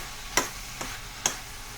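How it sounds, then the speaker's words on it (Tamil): Spicy chicken samosa stuffing is stirred in a frying pan, with three separate scraping strokes of the spoon over a faint, steady sizzle. "நம்ம இப்போ நல்லா கிளறி விட்டுக்கலாம்."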